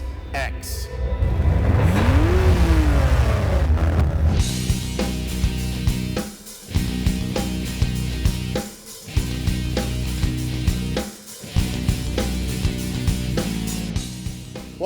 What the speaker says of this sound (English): It's here. The all-new Acura